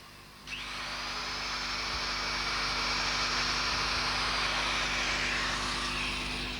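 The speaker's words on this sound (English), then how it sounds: "Following the markings, the holes on both modules can be drilled to the correct diameter." An electric drill boring holes in model railway layout modules, starting abruptly and running as a steady loud high whine that rises slightly and holds for several seconds without a pause.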